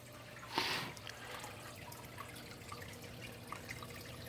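Water runs about a quarter inch deep over a weir that skims at 170 gallons an hour. It makes a faint, steady trickle, with a brief louder splash near the start.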